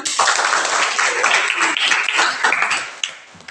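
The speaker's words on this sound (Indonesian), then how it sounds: "Baik, tepuk tangan Mas Arjan." Classroom of students clapping for a classmate, a brisk burst of many close hands that fades slightly toward the end.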